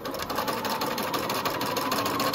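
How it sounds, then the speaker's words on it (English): A sewing machine runs a zigzag stitch through elastic while making a scrunchie, its rapid even needle chatter whirring steadily and close for the whole stretch. "I'm going to be using the zigzag stitch to put this together"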